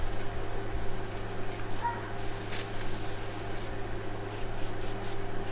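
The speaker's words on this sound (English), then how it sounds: "set my face with the Avion facial spray" A quick hiss of spray bursts for about a second, with a fainter second puff and a few short spritzes after, over steady low room hum.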